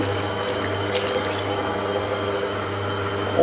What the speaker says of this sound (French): On met le lait